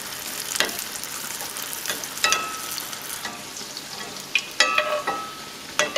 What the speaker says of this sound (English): once the oil gets hotter and you get the groove